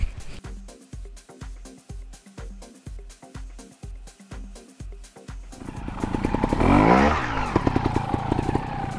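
A Vertigo Nitro fuel-injected trial motorcycle engine pulses in a steady run of short, evenly spaced bursts, then revs harder into a louder, sustained roar with crunching and scrabbling as the bike climbs, close and alone.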